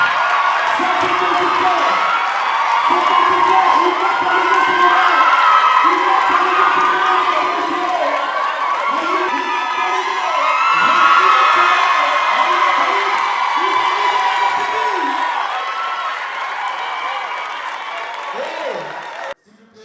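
A TV studio audience claps and cheers at length, with whoops and shouts rising over steady applause, while a voice talks through it, the crowd noise tapering before an abrupt cutoff.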